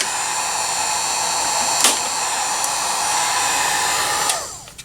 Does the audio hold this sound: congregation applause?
no